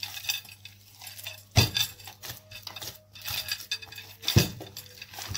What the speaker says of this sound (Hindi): अब हम इसमें one table spoon oil add करेंगे और इसे अच्छी तरह से कर लें मिक्स